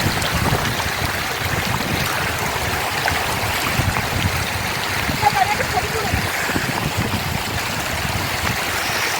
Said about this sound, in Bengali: এটা হলো লাচুং নদী।